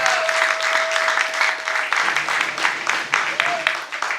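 A church audience applauding and cheering for Pastor Pondo, a steady wash of clapping that runs throughout at close range and is mixed with some voices.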